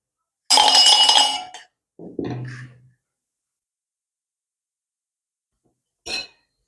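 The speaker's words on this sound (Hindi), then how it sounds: "ये जो गिलास है इस डब्बे में रखने जा रहा हूं।" A drinking glass set into a solid metal box, giving a loud, bright clink and rattle, a softer knock shortly after, then silence and one more brief clink near the end.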